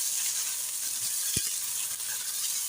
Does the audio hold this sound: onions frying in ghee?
yes